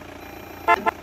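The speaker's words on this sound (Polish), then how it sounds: "to jest klakson" Two short toots of a car horn from a Seat in a Roblox driving game sound close and clear, a longer blast then a quick second one over a low engine hum.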